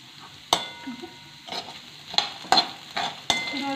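Curry leaves dropped into hot oil for kande pohe sizzle in a pan, with a steady frying hiss and several sharp scraping clinks of a spoon stirring, close and fairly quiet, without talk.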